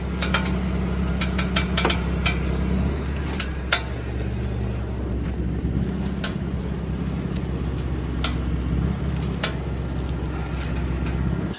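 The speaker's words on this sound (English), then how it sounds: "the clicking and creaking and just awful sound that comes from the front wheels right there when you turn the wheel" Front suspension of a BMW M4 clicking and creaking as the steering wheel is turned, sharp intermittent clicks scattered over a steady low engine idle rumble, recorded close with no talking.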